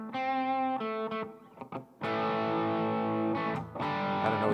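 An electric guitar on its bridge humbucker, through a Fulltone OCD distortion pedal with the tone turned all the way down, plays distorted chords and notes with a dark, muffled tone, sustained and loud with brief pauses between phrases.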